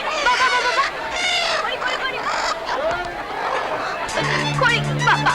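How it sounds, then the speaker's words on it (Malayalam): Chickens cluck and squawk in agitated bursts, up close and loud, mixed with voices talking and shouting over the commotion. "അയ്യോ എന്റെ കോഴികള്."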